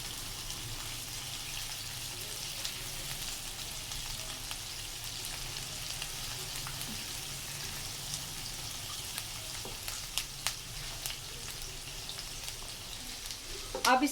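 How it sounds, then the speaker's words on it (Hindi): Chopped onion sautéing gently over a low flame for Vegetable Manchurian, giving a steady soft sizzle and crackle throughout, with a few faint clinks of a utensil near the end. "इसको हल्का सा सौते करना है हमने।"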